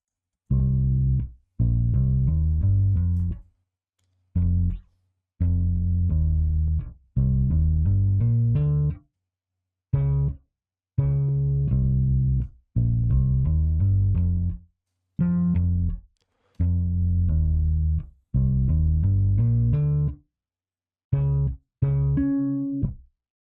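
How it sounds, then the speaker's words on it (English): A neo soul line on electric bass, using a Retro 60s full-range preset with a Mu Funk Bass Deluxe effect rack, walks through chord root notes and then a melody climbing the scale, as deep, rounded, sustained notes in a steady groove with short gaps between phrases. "Last but not least, I used an electric bass to make the bass line."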